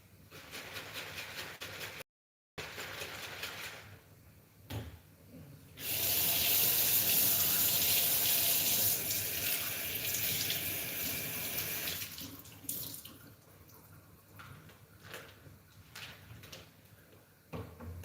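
A kitchen sink tap runs water for several seconds, a steady close hiss of flow, with quieter handling clatter and rinsing sounds before and after.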